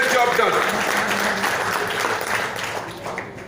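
Applause from a live audience at an indoor business event, a dense wash of clapping that starts strong and slowly thins out, with someone speaking over it.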